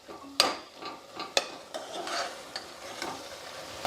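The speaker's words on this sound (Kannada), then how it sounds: "ಇದೊಂದು 2 ನಿಮಿಷ ಚಲೋ ಹೊತ್ತಿಗೆ ಫ್ರೈ ಮಾಡ್ಕೋಬೇಕು" Ground mint masala paste frying in a pan of oil for pudina pulao, a faint soft sizzle broken by a few sharp clicks and scrapes of a spoon stirring against the pan, no talking.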